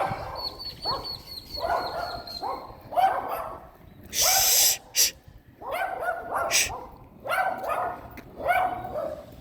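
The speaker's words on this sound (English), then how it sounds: "You cute and all, but why you gotta be barking at me?" A dog barks repeatedly outdoors in short, evenly spaced barks at moderate distance. A person hushes it, and loud bursts of noise break in partway through.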